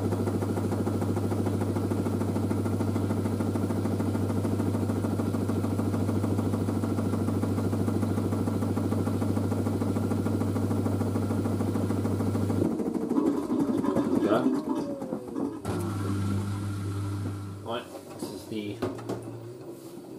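An LG DirectDrive F1496AD washer dryer on a Cottons 95ºC cycle, its drum motor giving a steady tonal hum that suddenly shifts into a varying, rumbling burst of speed with clunks, heard close with a voice present.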